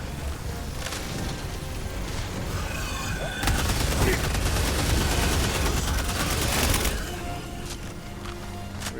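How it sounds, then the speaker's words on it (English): A grenade pistol firing in Helldivers 2, set against continuous heavy battle noise of explosions and gunfire, loud and dense, with the most intense stretch in the middle. "Grenade pistol."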